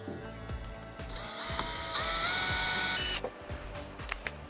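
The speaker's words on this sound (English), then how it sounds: "Here I use the T15 bit for the strain relief screws." A power driver with a T15 bit whirs and ratchets in short bursts, close up, driving strain relief screws on a DeWalt DW357 circular saw, with clicking, grinding mechanical bursts and a brief high whine.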